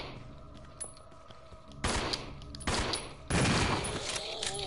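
Shotgun blasts in Resident Evil 0, three loud, booming shots spaced about a second apart, each with a lingering decay over game ambience.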